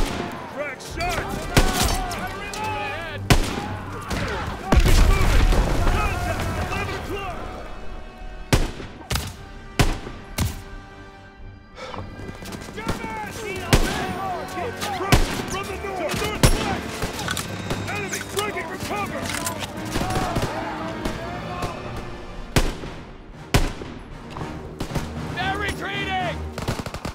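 Constant gunfire in the World War II shooter Call of Duty WWII, with rifle shots and machine-gun bursts over a dense battle din of explosions, shouted voices and a swelling music score.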